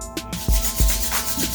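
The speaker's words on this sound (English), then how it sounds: "you rub your hand, and using your hand will get warm" Hands rubbing together briskly to warm them, a few close, dry swishing strokes with soft thumps in quick succession.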